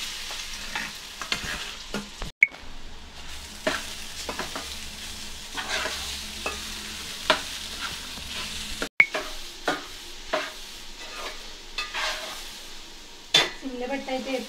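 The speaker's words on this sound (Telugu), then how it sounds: "ఇప్పుడైతే నెయ్యిలో కొబ్బరి కూర అయితే వేసుకుంటున్నానండి" Grated coconut fries in ghee over low heat, a soft continuous sizzle under frequent spoon scrapes and light clinks against the pan, with two brief sharp knocks.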